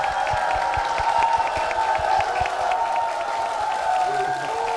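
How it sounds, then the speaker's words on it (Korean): A church congregation claps warmly for a pastor's entrance, a steady patter of many hands at moderate distance over nearly five seconds, with a faint voice and room hum underneath. "성도님들 아주 뜨거운 박수로 시작을 했습니다"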